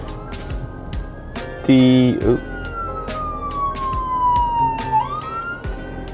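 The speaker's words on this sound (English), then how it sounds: "Part ways for the ambulance." An ambulance siren wails close by, its pitch sliding downward as it passes, mixed with traffic noise and a brief loud honk.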